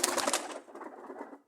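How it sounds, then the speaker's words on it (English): A pigeon in a backyard loft coos nearby, a soft, low throaty call that follows a brief burst of rustling, then trails off. "The fella's actually cooing around there."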